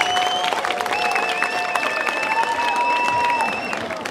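Sustained applause from an audience at a village talent show evening, honoring a young girl performer; dense steady clapping fills the space with some cheering tones and voices mixed through the crowd noise.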